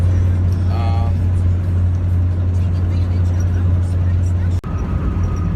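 Steady low engine drone and road rumble heard from inside a moving car, constant and close throughout, with a brief knock or click near the end.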